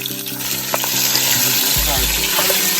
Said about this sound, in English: Sauteing until it's nice and coated.